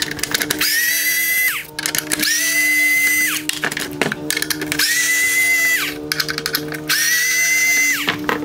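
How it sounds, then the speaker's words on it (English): Four T20 Torx screws backed out of the black and chrome bezel on a 2019-2021 Mercedes-Benz A220 LED headlight, a close, loud electric screwdriver whirring in four separate runs, each winding down with a pitch drop, with brief clicks between. "I'm going to remove the black and chrome bezel here by removing four T20 Torx screws"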